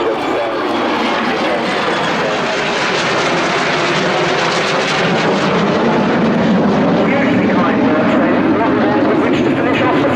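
Aircraft fly overhead in the RIAT air show flying display, a loud continuous engine roar that swells and fades through the sky, with crowd noise beneath it.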